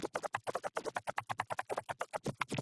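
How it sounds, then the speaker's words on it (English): Rapid back-and-forth turntable scratching of a low, bassy sound, fast choppy bursts repeating without a steady beat, fairly quiet. "I had this nice long recording of scratch versions of the bass to cut up"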